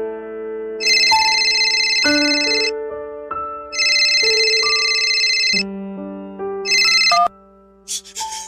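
A telephone rings as a sound effect in a Tagalog radio drama: a bright electronic ringtone melody in three repeated bursts, clear and close.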